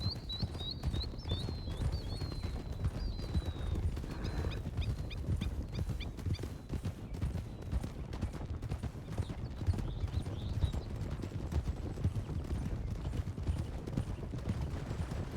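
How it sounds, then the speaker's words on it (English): Horse hooves at a full canter in the RedM video game on the open trail, a steady rapid clip-clop running the whole stretch, loud and close, with faint chirps early on. "Getting up to a full canter."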